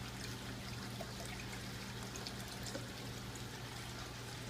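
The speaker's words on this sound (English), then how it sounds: "by opening that back up, the water flow on the first two, has increased" Water runs steadily out of pond equalizer pipes after one is reopened, a constant soft outdoor trickle and pour with a low steady hum, no voices.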